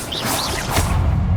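Incendio fire spell cast in the Hogwarts Legacy video game: a short airy whoosh with a rising rush and low rumbling body, fairly loud and alone.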